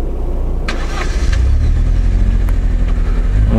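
Lada Niva accelerating on sandy ground, engine rising from a rough rumble into a strong, loud revving pull, heard up close with no talk.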